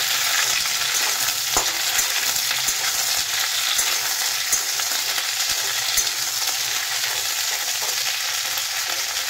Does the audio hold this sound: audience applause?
no